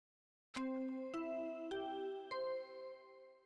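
A four-note rising chime from Danganronpa: Trigger Happy Havoc plays after a short silence, each bright tone struck in turn and left ringing, clear and alone.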